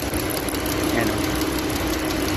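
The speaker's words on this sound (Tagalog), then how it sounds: "Tingin ko yung rocker arm niya na naman yung maingay." A Dodge Durango engine idles steadily with a faint, rapid ticking knock from a noisy rocker arm, heard close up and continuous.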